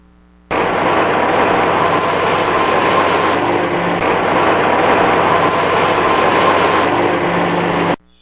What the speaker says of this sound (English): The two-car train is now proceeding along a couple of curves to get it to the demonstration track.